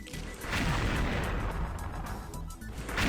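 Heavy gunfire in the Thai online shooter XSHOT, with loud, close bursts of booming shots packed densely together and continuing almost without a break.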